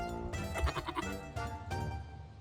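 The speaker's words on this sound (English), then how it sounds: "You're one randy goat, Beans." A male Nigerian Dwarf or Pygmy goat bleats nearby, two loud, wavering cries in quick succession with a short gap, no talking.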